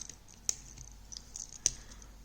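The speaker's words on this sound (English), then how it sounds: "Scissors are in the best of all tools." Small scissors on a Victorinox Climber pocket knife snipping twice, two sharp close clicks about a second apart over a quiet background with faint handling scratches.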